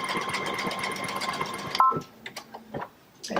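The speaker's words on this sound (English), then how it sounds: "we're going to go ahead and stitch it out" Baby Lock sewing machine stitching out a design, with a fast, steady mechanical whir and needle rhythm up close that stops abruptly, followed by a few faint clicks and handling noises.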